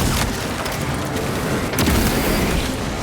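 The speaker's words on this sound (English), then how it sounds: "Launching crack grenade." A crack grenade explodes in the video game Space Marine 2, a dense, booming burst followed by sustained rumbling roar and a sharp crack near the middle, with a voice faintly in the mix.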